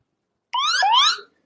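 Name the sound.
emergency push notification alert sound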